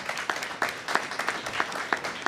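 A modest audience at a Pennsylvania governor's food assistance announcement gives brief, fairly sparse applause, individual claps distinct and rhythmic over a couple of seconds.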